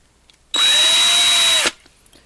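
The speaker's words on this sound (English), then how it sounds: "let's drill out this rivet and see what we got here" A power drill drills out a rivet on a 1/64-scale model car, whirring steadily for about a second, starting and stopping abruptly, with a high whine over a dense buzzing roar.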